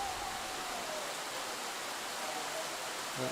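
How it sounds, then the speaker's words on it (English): Heavy rain pounds the roof of a football stadium stand at Leckwith during a Cardiff City versus Swansea City under-21 match, a steady loud hiss of drumming water filling the whole stretch, with a faint whistle-like tone drifting underneath. "you will hear the sound of the rain that is walloping the top of the stand here at Leckwith"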